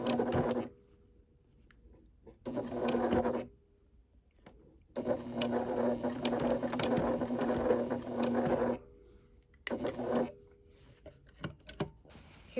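A sewing machine stitches a tote bag made from a men's shirt, running in close, loud whirring bursts of a second or several seconds separated by short pauses.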